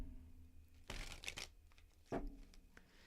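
Tarot cards are shuffled by hand in a few short riffling bursts with soft rustles between, close and quiet with no talk.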